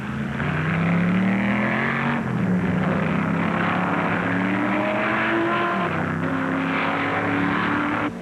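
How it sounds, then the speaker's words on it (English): A 4-liter Ferrari race car roars at the 1964 Sebring 12 Hours race, engine note rising and shifting through gears, loud and continuous with other cars blended in, old film recording. "the Hill Bonnier 4-liter Ferrari has taken the lead from Surtees late in the afternoon"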